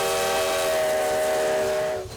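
The whistle of steam locomotive engine number 93, built in 1909, in Ely, Nevada, blows one long, loud, steady chord that cuts off near the end, with no voices.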